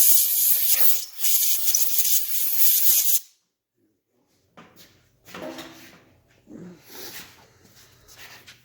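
Compressed air hisses in loud close blasts into a hole in a 1975 Norton Commando Mk3 transmission case, followed by silence, then quieter handling noises and rubbing.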